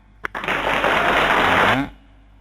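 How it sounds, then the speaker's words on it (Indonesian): A canned applause sound effect plays in a PowerPoint quiz, a short, dense burst of clapping lasting just over a second after a click, then cutting off. "ada tepuk tangan"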